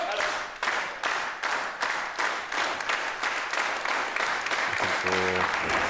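A wrestling crowd in Guildford claps in a steady rhythmic beat, loud and close, backing wrestler Callum Beck during a match, with a brief tonal sound near the end.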